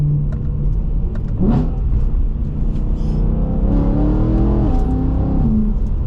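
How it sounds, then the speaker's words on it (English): BMW E92 M3 in manual mode blipping through downshifts, a loud engine burble with rising rev flares and a quick throttle spike, heard up close inside the car with no talking. "You can change the modes and you get downshifts like this."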